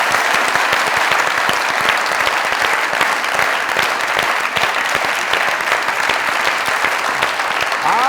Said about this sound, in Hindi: आप लोग की जोरदार तालियों में